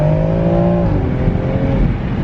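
BMW X3 M Competition SUV pulling hard up a freeway on-ramp, its engine droning loud and steady with a rising then settling tone as it shifts, continuous throughout with no talking.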